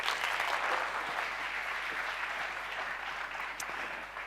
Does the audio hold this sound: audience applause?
yes